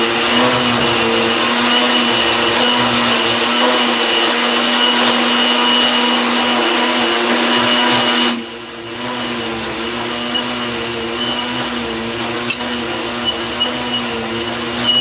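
Blender motor whirring steadily while grinding dried soursop leaves, a loud continuous mechanical drone that cuts out briefly midway and resumes slightly softer with small clicks.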